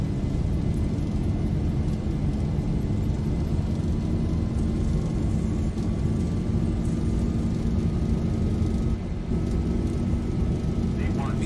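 Twin jet engines of a Boeing 737-800 spool at takeoff thrust in the X-Plane 11 flight simulator, a steady loud roar with a faint rising whine, while a voice speaks over it.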